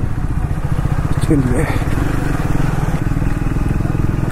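A Triumph Speed 400 scrambler-style motorcycle engine runs with a steady, loud, throbbing drone, heard up close throughout while someone briefly speaks over it.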